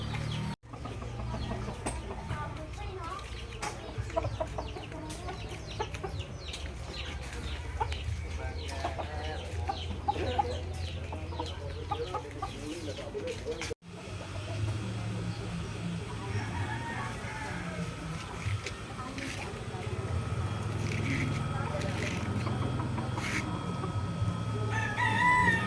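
A fighting rooster being transported to Albay clucks and crows repeatedly against a steady vehicle rumble and background voices, the calls coming close and fairly clear at irregular intervals.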